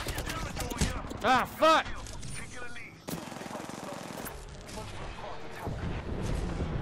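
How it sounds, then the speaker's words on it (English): A grenade goes off in a multiplayer shooter game on a Nintendo Switch, with gunfire bursts and a loud blast cutting through hectic play as players shout and curse over the action. "Heads up. Grenade."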